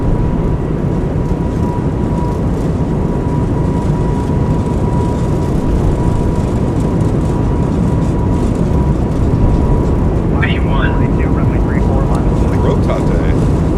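Airbus A220 jet engines at takeoff power during the takeoff roll, a loud steady broadband roar filling the whole clip with a faint tonal whine, alone with no talk.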